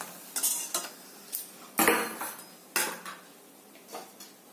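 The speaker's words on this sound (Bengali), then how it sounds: "বড়াগুলো সব ভাজা হয়ে গেছে, আমি তুলে নিচ্ছি।" Fried shrimp fritters being lifted out of a pan for an easy echor chingri dish, heard as a few sharp metallic clinks and scrapes of a utensil against cookware, irregular and close.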